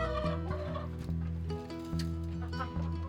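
Backyard chickens, a hen with her chicks, clucking and calling close by in an overlapping series of gobble-like vocal bursts and soft cheeps, with no talk.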